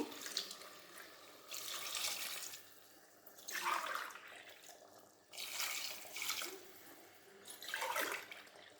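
Water poured from a glass into a pot of chicken biryani rice in about four separate splashing pours, each a few seconds long with short pauses between, close and moderately loud.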